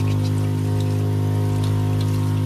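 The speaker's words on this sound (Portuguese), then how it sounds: "Temos torneiras de água" Tap water runs steadily from a newly installed faucet in a Kombi camper van, a continuous close hiss over a low pump-like hum, with no talking.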